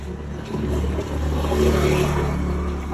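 A Honda Navi motorcycle engine revs up nearby, its buzzing drone swelling and holding through the short stretch before easing slightly, with no clear talk over it.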